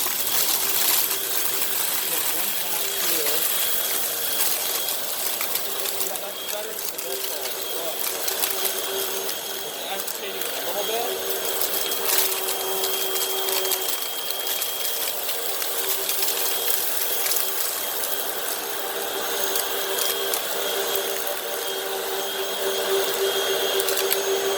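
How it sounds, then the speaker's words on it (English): A Hoover WindTunnel upright vacuum cleaner runs on a textured rug with a loud, steady motor whine and a hiss of airflow. Faint rattles from debris being sucked up come through, and a voice speaks briefly. "so we'll see how this Hoover wind tunnel does. Let's turn the height down. Let's turn it back on."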